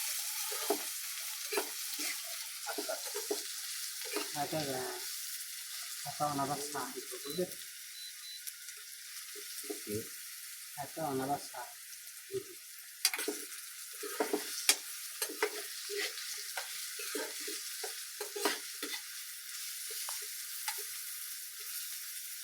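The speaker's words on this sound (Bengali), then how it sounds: "হালকা নেড়ে বাদামি কালার করব, বাদামি কালার।" Sliced onions sizzle in a pan for a bitter gourd dish, stirred lightly while they brown. The frying hiss runs continuously, with scattered scrapes of the spoon and a voice talking underneath at times.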